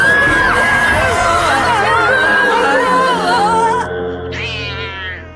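Cartoon cats meow loudly in a long run of wavering, overlapping cries, with crowd-like chatter and babble in the background before the cries break off near the end.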